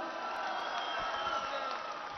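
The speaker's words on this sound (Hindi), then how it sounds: "एक बार जोरदार फिर तालियां।" Applause and crowd noise from an audience at a wrestling event, a steady broadband wash of clapping held at an even level throughout.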